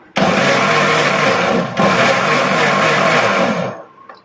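An electric blender grinds an oil mixture with a loud, close, continuous whir for about three and a half seconds, dipping briefly midway before spinning down.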